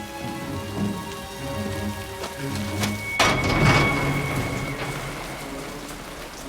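Rain pours steadily onto a street, a dense patter of drops close by that swells into a heavier, louder burst partway through before settling back to a constant wash.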